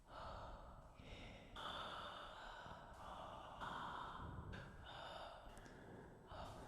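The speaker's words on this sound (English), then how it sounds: "They have another breathing sample thing." Sampled human breaths from the East West Voices of Passion vocal library, a series of soft, airy inhales and exhales heard alone at low level.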